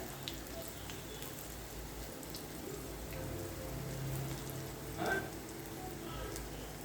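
Okra chips sizzle steadily in hot oil, a dense crackling hiss that stays even throughout with a brief louder flare near the end.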